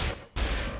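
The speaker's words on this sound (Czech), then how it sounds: "Vybila se skoro všechna energie na jeden výstřel." A charged energy weapon fires in the shooter game Wolfenstein: The New Order, a single loud, full-bodied blast after a brief dip to near silence, with a sustained roaring tail.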